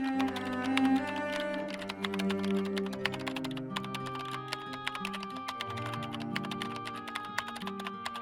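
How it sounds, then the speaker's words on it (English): Keyboard typing in the game Nancy Drew: Curse of Blackmoor Manor, a steady run of quick, light key taps over soft background music, with no voices. "I feel like I've been typing forever."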